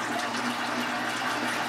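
Aquarium filters run during a water change, making a continuous rushing, gurgling water noise that is steady and fairly loud, with no voices.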